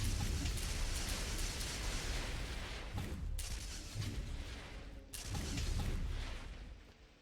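Eridian guns in a Borderlands-style shooter firing big, slow energy rounds: heavy booming discharges roll continuously with deep low rumble, with a couple of sharper blasts standing out near the middle and later.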